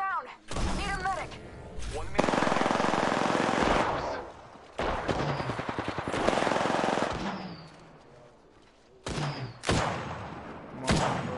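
Bursts of automatic weapon fire and single shots in the Apex Legends battle royale game, loud and close, with several separate volleys broken by short pauses and game voices.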